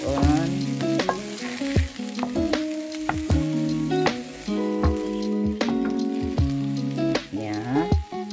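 Onion and green chili fry in a pan for ratatouille, giving a steady crackling sizzle with soft popping throughout, heard close and alongside sustained tonal, melodic sounds, with no talking.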